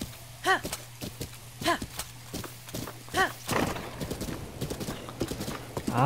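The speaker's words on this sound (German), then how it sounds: "Aber gut, reiten wir einfach mal weiter in die Prärie hinein." A horse in the video game Zelda: Breath of the Wild clip-clops in a steady rhythmic gait with a few neighs, close and clear, while someone talks over the hoofbeats.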